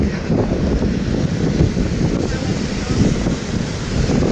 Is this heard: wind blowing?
yes